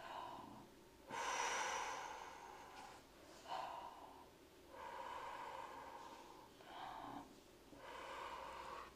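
Deep breathing for transverse flute practice: several slow, airy inhalations and exhalations drawn close to the microphone in a quiet room, each lasting one to two seconds with short pauses between.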